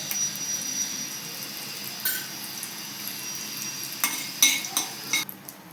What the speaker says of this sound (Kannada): ಚಟ್ನಿಗೆ ಒಗ್ಗರಣೆ ಹಾಕ್ಕೊತಾ ಇದ್ದೀನಿ. ಎಣ್ಣೆ ಕಾದಿದೆ. ಸಾಸಿವೆ ಸ್ವಲ್ಪ